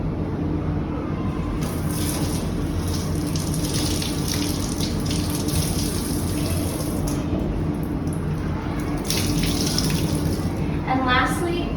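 Water runs steadily from a tap while a washcloth is rinsed clear of debris before going back into a cleaning bucket, a continuous hiss with some faint splashing toward the end.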